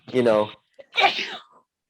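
A single sneeze bursts out loud and close, followed after a short pause by a person speaking briefly.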